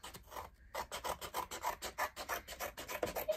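Scissors cutting through a cardboard cereal box for a DIY puzzle, a rhythmic series of close rasping snips repeating steadily, moderately loud and alone.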